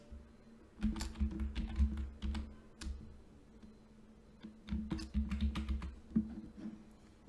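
Username and password typed on a computer keyboard in two bursts of quick, close clicking keystrokes separated by a short pause, with a low steady background hum.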